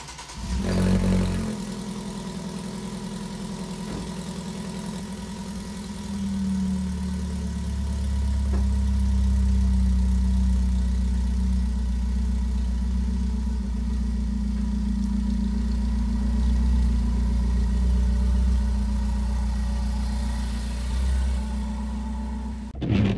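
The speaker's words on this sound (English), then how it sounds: "This is a cold startup on a 2012 Ford Focus Titanium with a muffler delete." A 2012 Ford Focus Titanium with a muffler delete idles after a cold start on a snowy morning, giving a loud, steady, deep drone with a slight swell in the middle and no voices.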